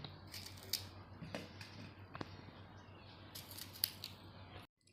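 Okra being cut into pieces with a knife in a home kitchen, producing soft, scattered crisp snips and taps over a steady low background hum, fairly faint and close.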